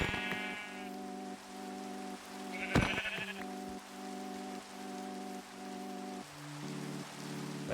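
Video game sheep bleating in a hardcore survival world: several repeated, steady bleats over a constant rain-like background, with one sharp click partway through.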